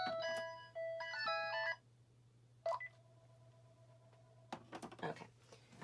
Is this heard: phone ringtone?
yes